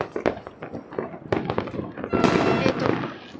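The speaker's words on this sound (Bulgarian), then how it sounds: "Не спират тия зари, вижте." New Year fireworks bursting in a rapid irregular series of sharp cracks and bangs, some close and loud, others farther off, with a brief murmur of voices among them.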